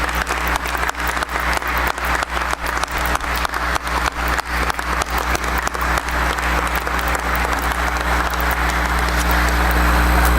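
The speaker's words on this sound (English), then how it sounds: "How about one huge round of applause for our Booster Club board who is with us today." A large audience at a 2017 sports hall of fame induction ceremony applauds the Booster Club board, loud dense clapping sustained throughout and swelling toward the end, with no talk over it.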